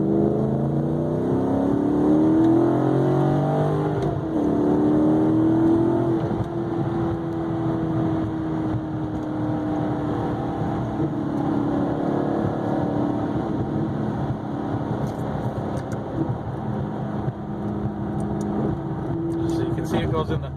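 A 2009 Maserati GranTurismo S engine accelerating and shifting on its own through its automatic gears, a loud sustained rising engine note with pitch drops at each shift, heard from inside the car with a voice talking over it.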